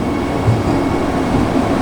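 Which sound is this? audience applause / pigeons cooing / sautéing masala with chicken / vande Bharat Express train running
vande Bharat Express train running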